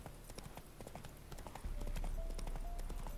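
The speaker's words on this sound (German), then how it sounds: "Dann reiten wir von dannen" Horse hooves clip-clopping steadily as the horse is ridden in The Witcher 3 video game, a brisk rhythmic gait that grows louder and fuller halfway through, with no talk over it.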